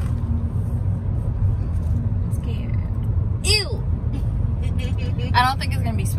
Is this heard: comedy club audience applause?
no